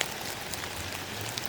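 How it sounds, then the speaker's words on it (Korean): Rain falling in a dense, even hiss of drops hitting a surface, steady and fairly soft with no voices. "이번엔 비가 떨어지는 소리."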